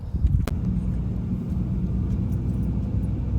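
An RV rolls slowly along a rural Texas road, heavy low rumble of engine and tires held steady throughout, with one sharp knock near the start.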